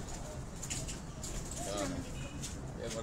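Pigeons coo softly in a loft in Rawalpindi, with low murmuring calls rising under steady background noise and nearby voices talking over them.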